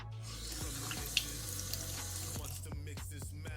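Water runs from a tap into a sink, a steady splashing flow with a few clinks and drips, fairly close and without talk.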